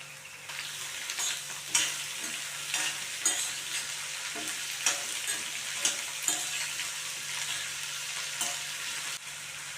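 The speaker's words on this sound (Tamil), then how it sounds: "இப்போ நறுக்கி வச்சுருக்க மாங்காயை சேர்த்துக்கிறேன்." Chopped raw mango stirred and frying in hot oil for a quick pickle, with steady sizzling and repeated scrapes and stirs of a spoon in the pan, close and fairly loud with no voices.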